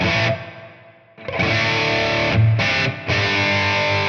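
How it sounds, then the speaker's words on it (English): A distorted electric guitar plays sustained notes and chords through a modeler with reverb at a 50 percent mix, loud and close, each note ringing into a lingering wash with short gaps between phrases. "Nice little balance between direct unaffected sound and the reverb."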